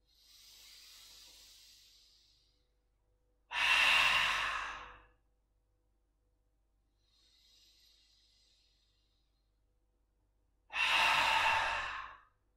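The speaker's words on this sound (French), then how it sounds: "on va expulser l'air par la bouche de façon bruyante, par le fond de la gorge" Noisy yoga exhalations pushed out through the mouth from the back of the throat, two loud breathy hisses separated by quieter nasal inhales, close and distinct in a quiet room.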